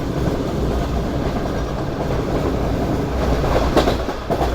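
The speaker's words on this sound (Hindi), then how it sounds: "इस वक्त हमारी ट्रेन" A Pak Business Express train clatters steadily along the rails through Punjab in the evening, with continuous loud rumble and rhythmic clickety-clack of wheels over track joints throughout, and no talking.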